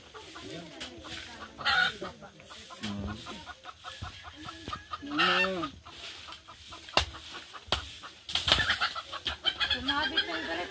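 Hens clucking and squawking in irregular bursts, close by, with occasional louder cackles and a faint voice now and then.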